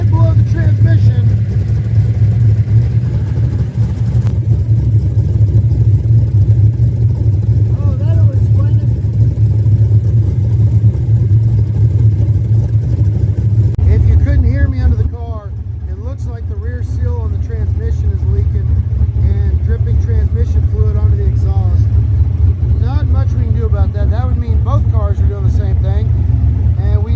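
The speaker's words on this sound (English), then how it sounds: "Yep, the throttle's sticking without that return spring." An old car, parked since 1999 and now being backed out of a driveway, idles with a steady low engine drone whose throttle sticks without its return spring, running continuously and loudly while a person talks over it.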